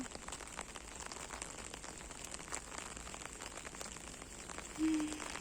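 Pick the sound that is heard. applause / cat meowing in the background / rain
rain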